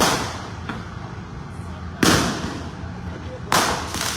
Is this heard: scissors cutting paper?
no